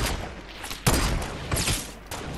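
Gunfire in a Fortnite Battle Royale match, a few sharp shots and short bursts cracking over a steady background of game noise, no one speaking.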